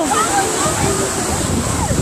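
River water rushes and sloshes steadily at dawn, loud and close, while voices shout excitedly over it.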